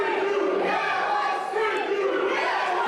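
Wrestling video game crowd cheering during a tournament final match: a continuous, fairly faint roar of massed voices with a slight dip midway.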